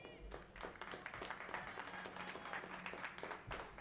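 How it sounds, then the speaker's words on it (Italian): Spectators applaud at a women's Serie B football match between Pavia Academy and Genoa, a steady wash of scattered clapping from the stands, fairly distant and continuous, with faint voices mixed in. "Gli applausi del pubblico eh"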